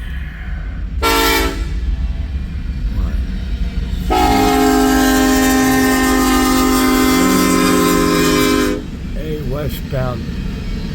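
A westbound empty BNSF coal drag heads onto the Creston sub, sounding a loud horn blast once and then a long sustained blast over the rumble of passing cars, with a voice speaking briefly near the end.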